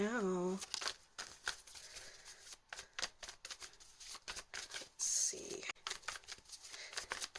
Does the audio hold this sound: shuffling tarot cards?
yes